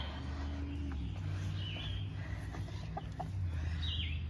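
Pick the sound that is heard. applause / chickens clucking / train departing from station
chickens clucking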